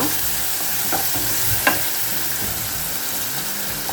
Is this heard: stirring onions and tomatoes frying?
yes